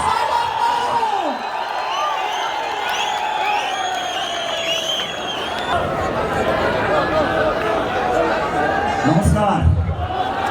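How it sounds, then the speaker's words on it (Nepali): A large crowd at a Rastriya Swatantra Party political rally in Nepal welcomes chairman Rabi Lamichhane with applause, cheers and whistles, a continuous roar of clapping and shouting with a loud burst near the end. "त्यसको लागि अब एकचोटि जोरदार तालीले सभापति रविलाल छानेलाई हार्दिक स्वागत गरौँ।"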